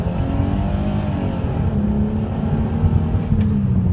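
A car engine revs hard while still cold, a loud, continuous throaty drone with layered harmonics that holds steady and close for the whole stretch, alone without any voices.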